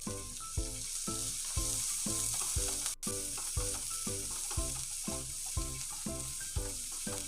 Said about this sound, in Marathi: परतून घ्यायचा आहे, शिमला मिरची, मटार असेल तर मटार पण आपण यात परतून घ्यायची आहे थोडी